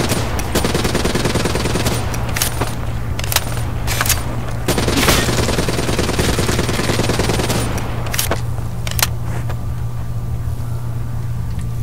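Rapid automatic gunfire from a heavy weapon in a zombie video game, loud sustained bursts with sharp cracks over a steady low engine-like rumble throughout.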